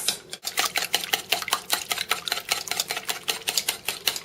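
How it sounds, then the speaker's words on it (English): An egg being whisked in a bowl for blueberry muffins, with a fast, steady run of close clicking beats from the whisk striking the bowl, continuing without pause. "First we have to whisk the egg"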